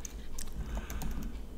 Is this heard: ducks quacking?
no